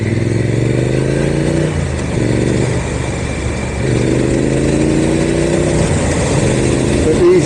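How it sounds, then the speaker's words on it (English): A Triumph Street Twin motorcycle with Vance and Hines exhausts runs loud and close. Its deep, throbbing engine note rises and dips slightly as the revs shift, and faint talk may sit underneath. "I believe these exhausts are made by Vance and Hines."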